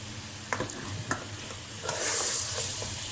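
Chicken pieces fry in oil for chicken nihari, a close, soft sizzle broken by a few clinks and scrapes of a stirring spoon, swelling briefly louder toward the end.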